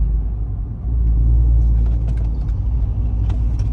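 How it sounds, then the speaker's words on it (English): An Audi transmission slips and jumps into fourth gear, heard as a deep, steady car rumble from inside the cabin that surges and swells partway through, with faint clicks and rattles. "It like slipped completely and then went into right into fourth gear."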